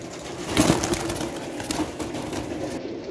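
Soft, low cooing of pigeons close by at a pigeon sale, a few throaty murmurs over a muffled background rustle.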